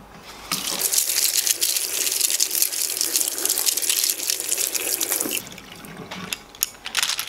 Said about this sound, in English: what I tend to do now is just rinse all the soap off everything